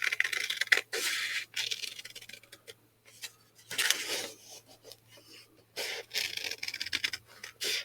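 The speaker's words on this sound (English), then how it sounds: "I'm going to take my scissors and cut on the line." Scissors cut paper along a line in a series of short, close, crisp snips separated by brief pauses, soft and isolated in a quiet room.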